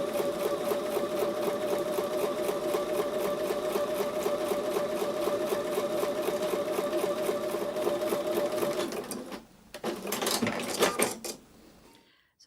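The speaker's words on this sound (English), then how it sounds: "So I'm going to take these to the sewing machine and sew on top of the drawn line." A sewing machine stitches quilt block fabric along a drawn line, running steadily with a rapid mechanical stitching rhythm, then stops, then a few brief bursts of stitching follow before it falls quiet.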